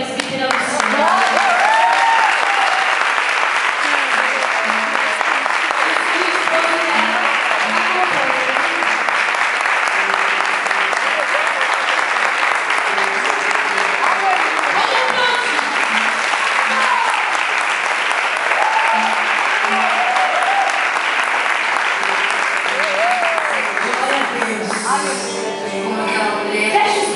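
A church congregation applauds steadily for almost half a minute, a dense and loud wash of clapping from a full room that only thins out in the final seconds.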